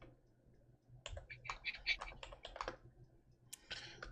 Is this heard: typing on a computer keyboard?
yes